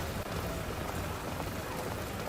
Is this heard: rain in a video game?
yes